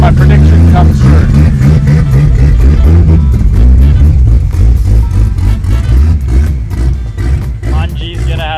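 Modified Holden VL turbo car revving hard, loud and close, with a rapid fluttering chatter from the dump pipe between throttle bursts, under excited voices.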